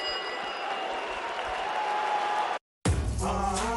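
A boisterous home Latvian crowd at a boxing match applauds and roars steadily for the home fighter, then the sound cuts off abruptly and a voice speaks afterward.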